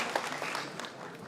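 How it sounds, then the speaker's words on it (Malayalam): An indoor audience applauding at a show, a short burst of dense, steady clapping of moderate loudness. "ഒന്നൊന്ന് വലിയൊരു കൈയടി കൊടുത്തു കഴിഞ്ഞാൽ അദ്ദേഹം പാടും."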